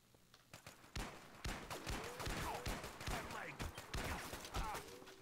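Repeated sharp gunshots crack in quick irregular bursts in Garry's Mod, fairly close and distinct, with faint game noises between the volleys and a voice talking quietly underneath.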